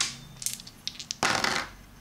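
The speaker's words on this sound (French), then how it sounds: "donc il tire 2 dés" Two dice in a tabletop war board game clatter with a few short, sharp taps, followed by a louder rattling roll, close and with no talk.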